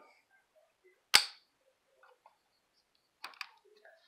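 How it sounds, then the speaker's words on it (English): An AR-15 rifle fitted with an upgraded trigger dry-fires, giving one sharp, loud snap followed a couple of seconds later by a softer pair of mechanical clicks, with quiet handling noises in between. "Next up, we've got my AR-15 with my awesome trigger. Check this out."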